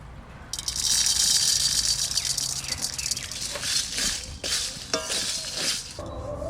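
Dried red chillies and coriander seeds with cumin, fennel and ajwain fry in oil for a sweet-sour ber pickle, a loud hissing sizzle with rattling, crackling stirs and scraping, close up and without talk.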